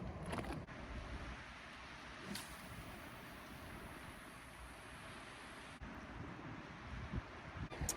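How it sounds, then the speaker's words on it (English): Northwest wind buffets a microphone at a beach on the open coast near Salcombe Bar at low tide, a loud continuous rushing roar with sharp gusty thumps, alone without talk. "It's a bit windy from the northwest, so you have to bear with me."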